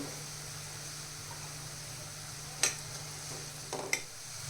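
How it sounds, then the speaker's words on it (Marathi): Onion and curry leaves fry with mustard seeds and cumin in a steady low sizzle, broken by a couple of sharp stirring scrapes near the end, quiet and close with no talk. "कांदा इथे आपल्याला छान फ्राय करून घ्यायचा आहे"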